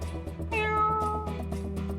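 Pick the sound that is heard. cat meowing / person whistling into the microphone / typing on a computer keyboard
cat meowing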